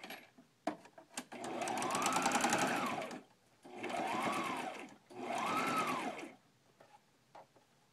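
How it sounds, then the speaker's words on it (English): Sewing machine stitching bias tape onto a reproduction 1930s–40s patchwork half apron, running in three loud sustained bursts with short pauses between, preceded and followed by faint handling clicks. "I gotta sew the bias tape here."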